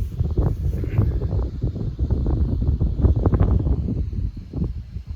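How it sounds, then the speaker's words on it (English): Gusty wind buffets the microphone on the roof of an off-grid cabin under construction, making a steady, low rumble with uneven surges throughout. "Oh, the wind's just a little bit too much"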